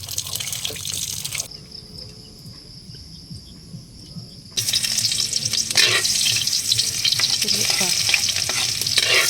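Sponge gourd being sautéed with shrimp and shellfish meat: loud, close sizzling with spatula stirring, a quieter stretch in the middle with a faint high whine, then the frying surges back strongly.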